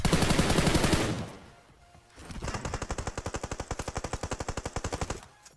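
Gunfire in PUBG Battlegrounds: a dense roaring volley opens, then after a short lull a rapid, evenly paced string of automatic shots rattles on for several seconds, loud and near.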